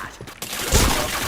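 A gunshot landing a headshot in a shooter video game, a short burst of loud, close gunfire.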